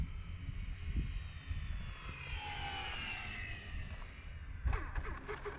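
An X-Fly Twin Nova RC plane flying on a sunny afternoon as it sets up for landing, a steady distant whining engine drone sweeping across the sky outdoors, with some low wind rumble and clatter near the end.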